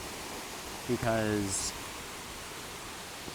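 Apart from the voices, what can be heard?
Lanka Ella waterfall in Sri Lanka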